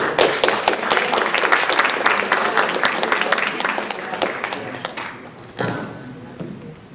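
Audience applauding at a ceremony where a gift is presented, a dense spread of claps for several seconds that gradually thins and fades, with a brief louder burst near the end.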